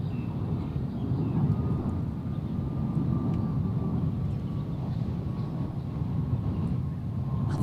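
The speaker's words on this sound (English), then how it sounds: "The plane going overhead." A jet airplane passes overhead near Hong Kong International Airport during a women's T20 cricket match, a sustained low engine roar that holds steady throughout.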